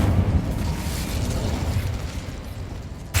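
A fire spell cast in Hogwarts Legacy gameplay gives a loud, sustained roaring whoosh of flame with a heavy low rumble, steady throughout and ending in a slight burst.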